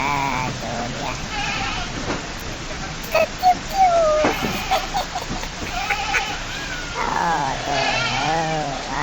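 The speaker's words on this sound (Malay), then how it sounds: "Tu kambing dia." Goats bleating as they are unloaded from a lorry in rainy weather, several wavering bleats at close range over a noisy background, with brief words spoken.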